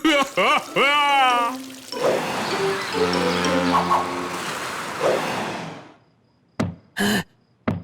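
Cartoon toilet flush: a rushing, gurgling water surge swells after a brief voice, churns for a few seconds with a bubbling, pulsing drain tone, then cuts off before short bursts of sound follow.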